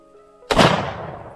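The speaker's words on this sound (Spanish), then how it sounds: "Disparo y creo que he pegado al zorro" A single sharp gunshot fired at a fox during a montería hunt at Las Torcas cracks loudly after a quiet moment, then rolls off into a decaying outdoor echo.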